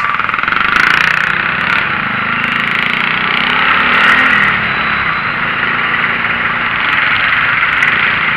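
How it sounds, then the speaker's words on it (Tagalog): A motorcycle engine runs steadily nearby, rumbling and revving a little, with a continuous mid-pitched drone throughout. "Ang angas ng tunog ng motor ni guard mga Lods."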